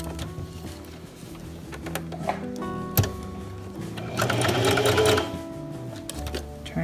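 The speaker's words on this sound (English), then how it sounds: "And we're gonna straight stitch." A sewing machine runs steady straight stitches along the seam of a newborn-size baby sleeper, a continuous close mechanical whir with a few clicks and a louder burst midway, and no voice over it.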